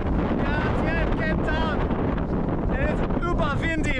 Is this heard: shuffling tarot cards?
no